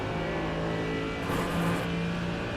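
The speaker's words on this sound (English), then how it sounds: "the sound of a pack of cup cars going past you at 200 miles an hour" A pack of cup race cars drones past at the Nurburgring 24-hour race. The loud, continuous engine roar swells slightly midway as the cars go by.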